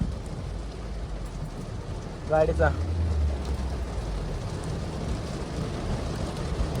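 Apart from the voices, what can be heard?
rain falling on a car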